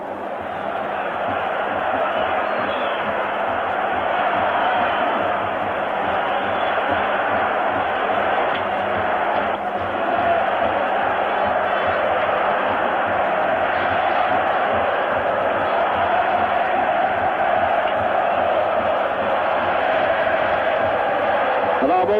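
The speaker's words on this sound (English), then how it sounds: "Most people in the stadium standing and singing." An Italian stadium crowd at an AS Roma home football match, a 1983-84 European Cup semi-final, stands and sings. The loud, sustained mass chanting roars on without pause throughout.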